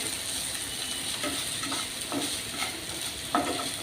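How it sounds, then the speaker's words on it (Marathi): Steady close sizzling and frying of kantroli (spiny gourd) vegetable being stir-fried with grated coconut and coriander in a pan, with soft scraping stirs throughout and no speech. "खोबरं टाकूया कोथिंबीर घालूया व्यवस्थित परतून घ्यायचे"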